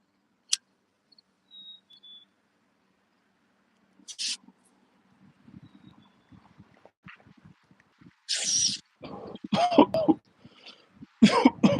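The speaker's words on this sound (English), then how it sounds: "I don't like to cough in your ear like that." Several sharp coughs and throat clearing come from one person in a quiet room, short isolated bursts early on, then a louder cluster of hacking coughs toward the end, with faint handling noises between.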